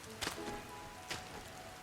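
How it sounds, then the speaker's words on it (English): Rain in the video game Sky: Children of the Light, a soft steady patter on surfaces with a couple of brief heavier splashes, heard alone without talk. "And it's raining."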